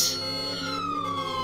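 Wailing ambulance siren from the Greenville driving game, a steady electronic tone sweeping downward, loud and close, with no talk over it.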